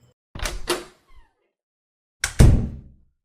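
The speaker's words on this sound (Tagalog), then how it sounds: "nang may narinig siyang isa pang katok sa kanilang pinto" Knocks on a house door in an audiobook scene: two quick raps, a pause, then two more heavier raps, close and fairly loud with no voices.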